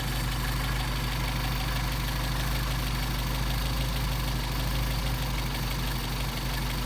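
A Mercedes 190SL engine with Solex carburetors idles steadily in cold weather, a constant close-up rumble with a regular pulsing beat and no talk.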